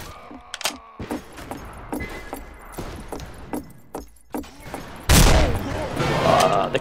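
Coach gun in the Western shooter game Fistful of Frags, several sharp shots in quick succession among metallic clicks and clatter, ending in a loud, sustained burst of noise.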